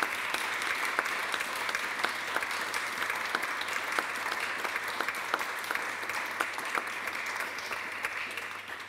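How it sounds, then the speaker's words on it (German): Sustained audience applause welcoming a guest at an ME/CFS awareness day event, fairly quiet and distant, many hands clapping steadily with a few sharper individual claps standing out. "Ich würde euch bitten, Rosa mit einem Applaus an dieser Stelle zu begrüßen"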